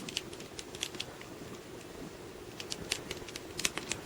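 Typing on an Adapt Mobile Bluetooth keyboard for an iPad, a steady run of light, fast plastic key clicks with occasional louder taps, close by and without speech.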